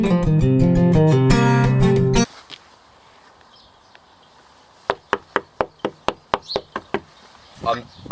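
Sharp knocks rap on a front door in a quick, even run of about ten strikes. Loud music plays before the knocking, then a short quiet gap.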